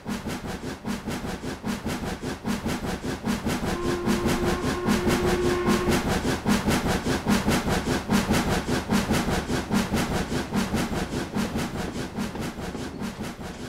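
A steam freight train hauled by a Black 5 locomotive rumbles steadily past on a heritage trail near Lofthouse Colliery, with a rapid, rhythmic clatter of wheels over rail joints, loud and close throughout, and a brief tonal hum midway.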